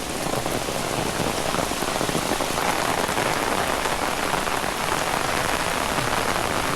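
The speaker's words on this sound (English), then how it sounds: "I mean, it's raining hard right now." Heavy rain pours down on the Appalachian Trail in a steady, dense hiss that stays loud and even throughout, with no voices.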